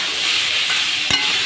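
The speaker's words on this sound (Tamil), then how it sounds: "கொத்தவரங்காய் எடுத்து நல்லா கொட்டி கலவி விடுங்க" Cluster beans being stirred in a hot pan, a steady close sizzle and frying hiss with a brief scrape of the spoon near the end, no talking.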